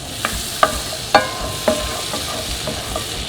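Butter melting in a pan for Brussels sprouts, with a soft steady sizzle and a handful of light scraping or tapping clicks spaced through it, fairly quiet and close.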